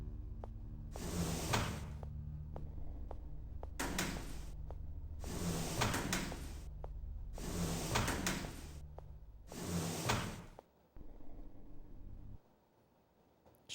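A big heavy door opens in the Sega Saturn game Enemy Zero with repeated mechanical grinding surges and hissing bursts over a steady low electronic drone, ending with a lone low hum.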